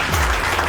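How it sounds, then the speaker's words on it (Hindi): An audience applauds throughout a career counselling programme, a short, dense wash of clapping at steady moderate loudness with no voices over it. "दोबारा ताली तुषार के लिए"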